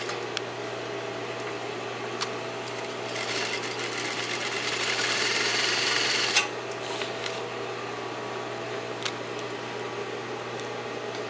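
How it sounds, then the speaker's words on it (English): A sewing machine stitches down a fold on a shirt: a steady, close mechanical whir that runs continuously, swells somewhat louder in the middle, and has occasional small clicks, with no voices. "now I'm going to stitch down this fold."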